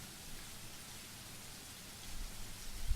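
Steady rain in the horror visual novel The Letter, a constant broadband hiss of falling water that swells slightly louder near the end, with no voices over it.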